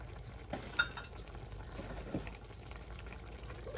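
A pot of vegetables and dried fish simmers in water over a village cooking fire, giving a steady soft bubbling with a brief clink near the start and no voices.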